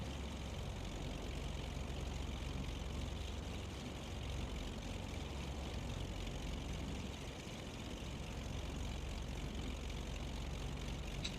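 A twin-engine Beechcraft Baron rolls off the runway after landing at Freeport, Grand Bahama, in Microsoft Flight Simulator 2020, its propeller engines holding a steady, even drone throughout with no voices.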